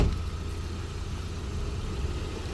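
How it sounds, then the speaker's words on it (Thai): A Nissan Sunny Neo automatic petrol engine idles steadily nearby, a low even rumble with a constant hum and no revving. "เราฟังเสียงเครื่องยนต์กันครับผม"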